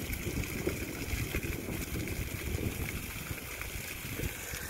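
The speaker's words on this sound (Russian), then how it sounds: "Водопадик, такой мини-водопад." A small spring meltwater waterfall trickles and splashes softly and continuously, a faint steady burble with light low rumbling throughout.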